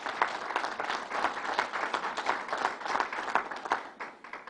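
An audience applauds at Governor Cuomo's announcement of a new arena for the Islanders, dense sustained clapping from a sizable crowd that rolls on for several seconds and eases slightly toward the end.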